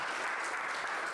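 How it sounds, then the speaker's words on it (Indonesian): An audience applauding at an indoor talk, a dense, even patter of clapping from many hands that holds steady throughout with no voices over it. "tepuk tangan untuk Anakta."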